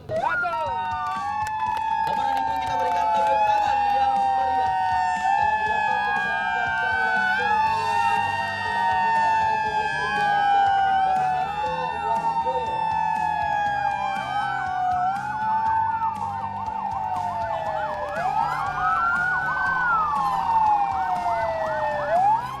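Several ambulance and official vehicle sirens overlap and sweep up and down at once, loud and close, sounding together for a long stretch at a vehicle launch ceremony in Sijunjung, West Sumatra.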